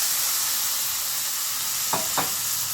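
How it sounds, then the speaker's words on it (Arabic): Loud, steady sizzle of peppers and sausage frying in a pan, with two short soft bursts near the end as tomatoes go in and are stirred, close up with no talk. "دلوقتي هننزل عليه بالطماطم"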